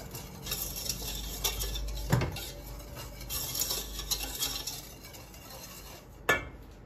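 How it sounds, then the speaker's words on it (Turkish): Dry flour, starch and sugar are stirred with a whisk in a pot, giving a steady scraping, rustling sound with a few light metallic clinks, close and fairly quiet. "tüm kuru malzemeleri bir çırpıcı yardımıyla karıştıralım"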